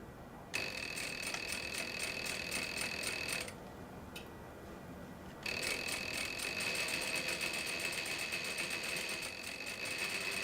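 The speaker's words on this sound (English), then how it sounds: "Next, we need to stitch the side seam." A sewing machine stitching the side seam of a coat runs close and steady with a fast mechanical whir and ticking, stops for about two seconds, then starts up again and keeps running.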